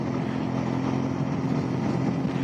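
A Lifan King 125 motorcycle being ridden at a steady cruising speed, its engine droning continuously and fairly loudly with a constant low hum and wind rush.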